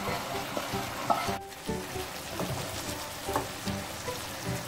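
Chicken perattu curry sizzles in a pan as roasted masala is stirred in, close-up frying crackle punctuated by repeated spoon scrapes and knocks in an uneven rhythm.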